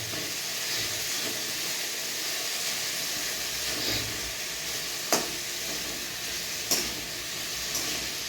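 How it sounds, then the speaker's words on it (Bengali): Spices sautéing in a pan for masala Maggi noodles give a steady, moderate sizzle and hiss close by, with a couple of brief sharp clinks of stirring over the continuous frying. "একটু সটে করে নিতে হবে, এটাকে সটে করা বলে।"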